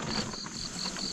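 Crickets chirp steadily in a close, pulsing trill, with evenly spaced high bursts repeating over a constant insect hum.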